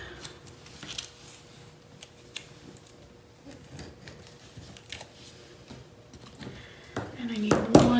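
Paper strips are cut with scissors for a monthly planner, making short snips and rustles at uneven intervals. Louder handling clatter comes near the end, and no one speaks.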